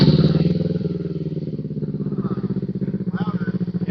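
A Kawasaki Eliminator motorcycle fitted with a Coffman's Thunder exhaust fires up and runs with a loud, steady pulsing engine beat close by, voices talking briefly over it.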